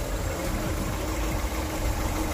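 A Daewoo Nexia 2 car engine idles at a used-car market, a steady low rumble heard up close under the open hood, with no voices over it.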